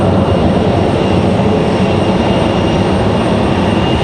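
An American Airlines Airbus A320 jet at Raleigh-Durham airport gives a loud, steady broadband roar that holds evenly through the whole stretch without letting up.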